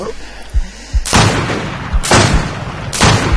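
Three loud, booming video-game gunshots land about a second apart, each with a long rumbling tail, preceded by a few softer thumps.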